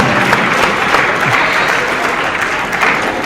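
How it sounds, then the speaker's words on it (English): Steady applause from a seminar audience, dense and continuous clapping throughout, fairly loud and close. "Clap for yourself."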